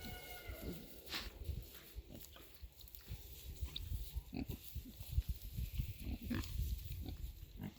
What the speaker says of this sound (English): digging in this field is exactly what pigs want to do